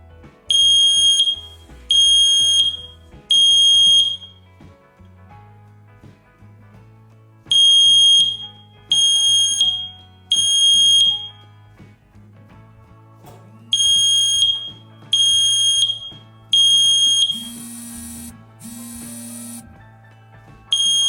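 A Tuya Smart Wi-Fi smoke detector sounds during a smoke test with loud, shrill electronic beeps in repeated groups of three, separated by short pauses, against a low background hum.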